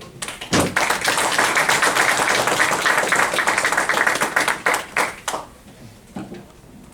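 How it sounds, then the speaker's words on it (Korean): Audience at a Korean business academy lecture claps to welcome a former minister to the stage, a dense burst of hand claps lasting several seconds before thinning into scattered claps and fading. "큰 박수로 환영해 주시기 바랍니다"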